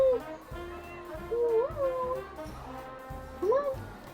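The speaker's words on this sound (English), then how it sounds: "my cat's over here trying to be loud" A cat meows loudly several times, its rising and bending calls standing out over a steady, rhythmic background thumping.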